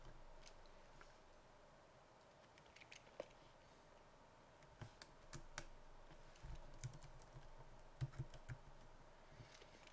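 Computer keyboard typing names into boxes of a sitemap chart, quiet irregular clicks coming in short bursts with small pauses, close and faint, no voices.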